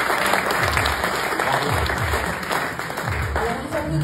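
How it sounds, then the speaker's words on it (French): An audience at an evening business-awards ceremony in the Terrassonnais Haut Périgord area claps loudly for the winners. Sustained, dense applause is mixed with some low crowd murmur and slightly swells and dips. "Alors on les applaudit bien fort"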